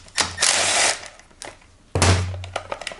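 A ratchet wrench removing the fan bolts on a GY6 scooter engine makes two loud bursts of rapid clicking close by, with clunks and taps between them.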